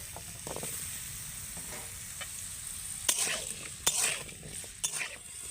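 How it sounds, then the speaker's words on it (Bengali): Small cut potato pieces fry in hot oil, a steady hiss with several louder stirring scrapes and clinks of a spatula against the pan, fairly quiet and close, without talk. "এবার ওই তেলের মধ্যে আমি আলু ভেজে নেব"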